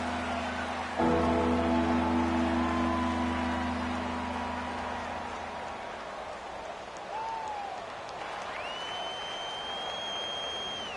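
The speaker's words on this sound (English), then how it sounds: "The crowd getting into it as we come up on a big 3rd down." A stadium crowd roars in an American football video game on PS4, a broad wash of cheering noise with steady game tones underneath and a rising electronic whistle near the end.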